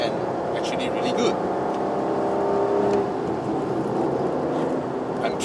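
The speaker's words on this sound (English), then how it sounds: "I'm feathering the throttle." A 2020 Aston Martin DBS Superleggera's engine hums steadily at light throttle with a smooth, even drone from inside the car. There is no talking and no sharp revving.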